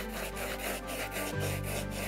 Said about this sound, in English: You can see now that just by sanding it,